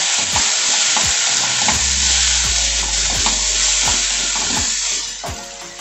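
Spoon scraping and stirring in a pan of sizzling gravy with chilli powder and turmeric, rhythmic strokes roughly every half second over a loud continuous frying hiss, close up and without talk.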